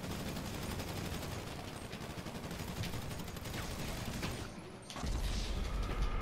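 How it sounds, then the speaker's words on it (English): Gunfire in a video game rattles in dense, fast bursts, quiet and continuous, with a sudden heavier volley near the end. "Gunshot."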